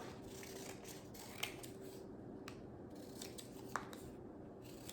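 Scissors trim a paper label for a homemade avocado detox facial soap bar, several soft snips close by with two sharper clicks, quiet and with no talk.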